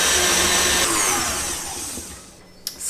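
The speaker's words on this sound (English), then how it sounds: "Now whisk on a slow speed again." An electric whisk whirring through muffin batter with yoghurt and blueberries at low speed, a loud close steady motor drone that slowly winds down and stops, followed by a light clatter.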